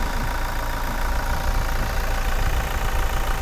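Toyota Revo 2.4 diesel pickup, a 2018 manual, idling in place with the hood open, a steady, even engine rumble with a faint ticking knock running throughout, close and continuous.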